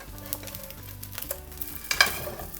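Hamburger steak sizzling steadily in a frying pan over medium heat, a moderately loud, continuous crackle with a brighter burst of spatter near the end and no talk.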